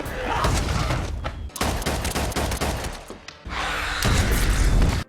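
Rapid bursts of film gunfire crack and rattle loudly in dense volleys, with brief gaps between barrages.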